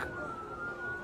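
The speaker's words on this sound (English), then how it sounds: "we're also being told that there are air raid sirens as we speak being sounded in Tel Aviv" Air raid siren sounding over Tel Aviv during an Iranian missile attack, a steady sustained wailing tone held for about a second, moderately loud against a dense background rumble.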